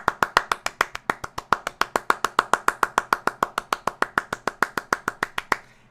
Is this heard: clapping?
yes